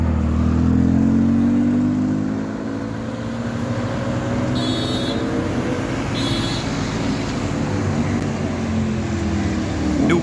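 A BMW M4 accelerating past on a Mumbai street, a steady loud engine drone with rising pitch that fades slightly midway, busy traffic noise around it.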